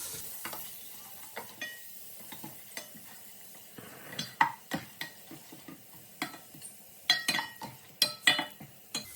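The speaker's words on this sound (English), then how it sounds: "Give this a mix." Crushed garlic flakes are stirred in a sizzling pan while cooking garlic butter lobster, with a steady low fry under repeated sharp metal scrapes and clinks of a utensil against the pan, growing busier toward the end.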